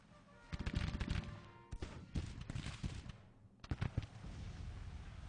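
Dense volleys of Civil War rifle fire mixed with artillery in the Grand Tactician: The Civil War strategy game, crackling bursts in waves with brief lulls, moderately loud.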